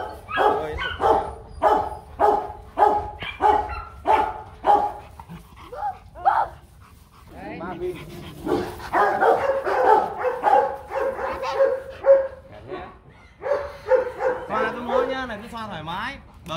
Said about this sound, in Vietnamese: Thì giống chó này nó gọi là giống chó làm việc nó cần khỏe.